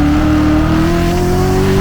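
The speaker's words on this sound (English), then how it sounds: "hearing that crisp downshift from behind you, it is unmatched" The 650-horsepower engine of a 2017 Corvette Z06 roars loudly and close as it revs up in pitch on a downshift, a continuous throaty drone with no talk over it.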